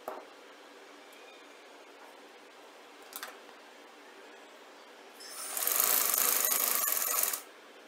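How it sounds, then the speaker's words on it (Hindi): A sewing machine stitches shirt fabric in one loud burst of about two seconds, set after quiet stretches broken only by a few light clicks. "यहाँ थोड़ा सा छोड़ के सिलाई लगा देते हैं।"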